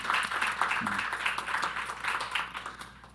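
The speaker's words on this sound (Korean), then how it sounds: "먼저 우리 축하의 박수 한번 하시죠." A church congregation claps to celebrate the church's 41st anniversary during a Sunday service, a steady wash of hand claps that slowly thins out.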